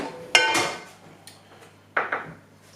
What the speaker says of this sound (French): je prends une petite poêle